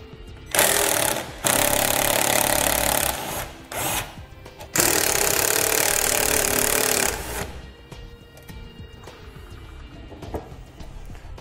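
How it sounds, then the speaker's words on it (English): A 7/16 wrench and socket, likely on a power driver, loosen and remove bolts from an ATV during a ComeUp Cub 2s winch install, giving loud bursts of buzzing tool noise with short pauses between them, then quieter handling sounds. "I'm just going to be using a 7/16 wrench and socket to take these bolts out."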